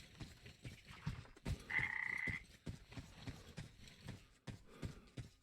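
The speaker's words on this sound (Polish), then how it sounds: "Żaby." Frogs croak in a rhythmic, repeated chorus within the video game Metro Exodus, moderately close, with footsteps and a brief synthetic whine mixed in.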